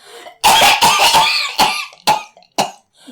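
A person coughs loudly and harshly several times in quick, uneven bursts, close by, with short pauses between them.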